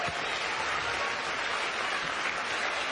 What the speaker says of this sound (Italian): Grandi applausi, giustamente per tutti